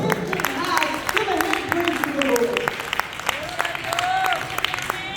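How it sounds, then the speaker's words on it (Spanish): Church congregation applauding during a bilingual Spanish-English service, moderate clapping mixed with voices and music-like tones underneath, fairly steady across the few seconds. "Dale un aplauso al Señor"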